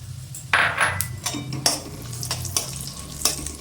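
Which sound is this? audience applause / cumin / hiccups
cumin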